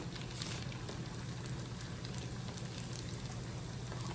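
Philly beef and cheese egg rolls, four at a time, fry in hot oil with a steady, dense crackling hiss that holds evenly throughout, with no talking.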